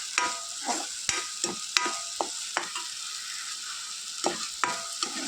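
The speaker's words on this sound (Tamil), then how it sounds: "இப்போ இது முதல்ல வதக்கிடுவோம்." Apple pieces sautéing in a pan for apple kheer, with a steady soft sizzle broken by repeated sharp scrapes and taps of a spatula stirring, close by and with no talk.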